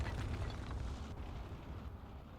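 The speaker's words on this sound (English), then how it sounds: "So now there's some artillery coming out as well." Artillery fire in the WWII video game Gates of Hell, a heavy, rumbling blast that rolls and slowly fades, loud and low with no speech over it.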